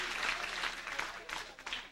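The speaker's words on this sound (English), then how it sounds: "Come on, give yourselves a big hand." Faint, fairly distant applause from a comedy show audience, brief and uneven, with a few louder bursts of clapping.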